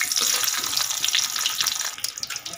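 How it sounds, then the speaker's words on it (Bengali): Whole spices such as cardamom, cloves, cinnamon, dried red chilli, bay leaf and cumin sizzle and crackle steadily in hot oil in a wok, close and continuous with small pops. "ফোড়নগুলোকে আমি ভেজে নেব।"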